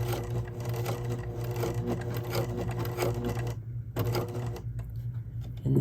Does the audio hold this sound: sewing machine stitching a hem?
yes